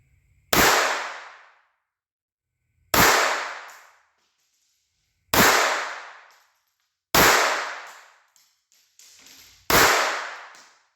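Five sharp, loud pistol shots from a Walther .22 firing CCI Mini Mag rounds, spaced about two seconds apart, each a crisp crack with a short decaying echo against quiet outdoor background.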